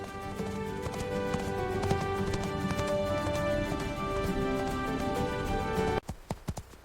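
A horse's hooves clip-clop steadily as it heads toward a forest, faint beneath sustained music before the hoofbeats stand out more clearly near the end.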